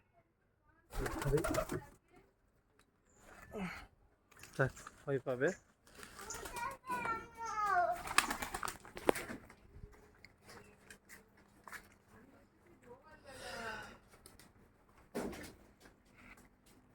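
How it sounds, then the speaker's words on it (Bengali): Soft pigeon cooing near and far, mixed with fluttering and rustling, while people talk over it at intervals. "এই হচ্ছে আমার কবুতর"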